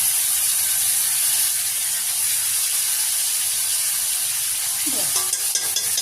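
Cumin seeds and ginger paste sizzle in hot oil for a potol ghonto, a steady close frying hiss throughout with a brief spluttering burst near the end.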